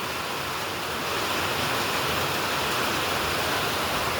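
Heavy morning rain falls over a village as a dense, steady, loud hiss of downpour that fills the whole clip without pauses or voices.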